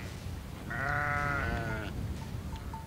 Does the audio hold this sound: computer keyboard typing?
no